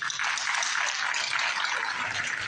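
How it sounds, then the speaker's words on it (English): Banquet audience applauding a speaker, a brief, dense wash of many hands clapping heard from a distance, steady and fairly soft throughout. "let's give our speaker a round of applause."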